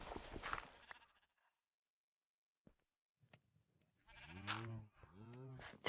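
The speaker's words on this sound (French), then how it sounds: "il n'y a pas eu de bruit de chèvre" A short goat bleat from Minecraft rings out in the second half, after a brief burst at the start and a quiet gap with a couple of soft clicks.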